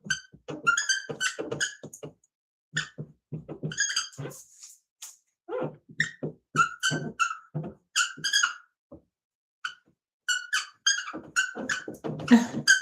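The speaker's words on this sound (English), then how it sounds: "This marker is very squeaky." A squeaky marker drags across a board during a live math lesson sketching a step function graph, giving off bursts of high, whining squeaks in uneven strokes with brief pauses, close and fairly loud.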